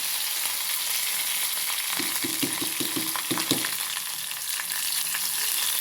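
Dried red chillies and curry leaves fry in hot oil for mambazha puliseri, a steady close sizzle with a short burst of quick scraping stirs in the middle.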